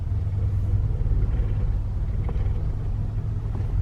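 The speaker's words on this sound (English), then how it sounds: "So first gear, no gas, clutch only. Take it out really slow until you feel the car moving." A manual-transmission car creeping off in first gear on the clutch alone with no throttle, giving a steady low idle rumble that holds even and close throughout with no voices.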